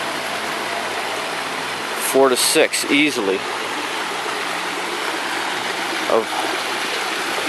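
Water pours steadily over a beaver dam waterfall near Trinidad, Colorado, making a continuous broadband rush that runs throughout, with a voice talking briefly over it partway through.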